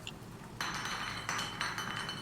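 Glass objects knocked around in SOMA ring out in three bright clinks, each a sharp glassy strike with a short ringing tail, close and clear with no talk.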